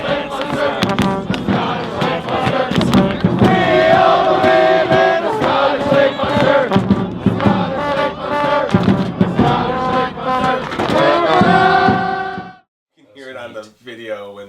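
Football supporters chant for United in a packed stadium at a semi-final match, with a loud, sustained wall of massed voices and crowd noise for about twelve seconds before it cuts off abruptly, leaving a brief closer voice.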